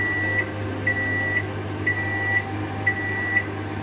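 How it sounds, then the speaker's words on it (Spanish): A microwave oven set to 800 watts hums steadily while baking a yogurt sponge cake, with short high beeps sounding at regular intervals about every half second, close and alone. "ponemos una potencia de 800 vatios y un tiempo de 10 minutos"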